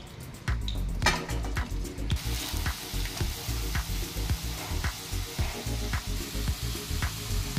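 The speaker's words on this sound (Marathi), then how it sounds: "आता आपण बटाटे फ्राय करून घेऊया।" Potato pieces fry in a pan of hot oil, a loud close sizzle that swells as they go in and then crackles steadily with bubbling pops.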